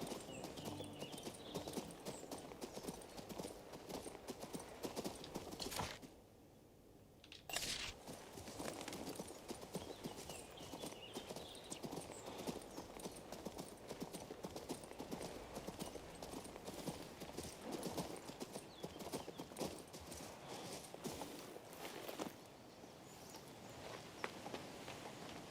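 Rhythmic clip-clop of horse hooves on hard ground in the King's Bounty II video game, steady trotting to galloping cadence close up, with a brief pause midway and no talking.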